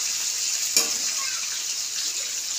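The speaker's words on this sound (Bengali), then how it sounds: "আমার মাছের মাথা মোটামুটি ভাজা হয়ে আসছে, আর একবার উল্টিয়ে দিলাম, একটু কড়া করে ভাজবো।" A fish head fries crisp in a pan of oil for a lentil dish, giving a steady, close sizzle with a brief clatter as it is turned, no voices over it.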